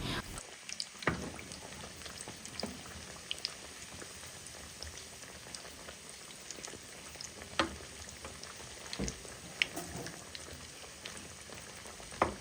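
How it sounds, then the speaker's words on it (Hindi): Potato tikkis frying in a pan for a crispy street-style aloo snack, a quiet, steady crackle with faint pops scattered throughout and a few sharper spikes, no voices. "टिक्कियों को फ्राई होते हुए 1 से 2 मिनट हो गए हैं।"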